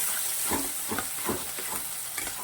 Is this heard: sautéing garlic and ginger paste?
yes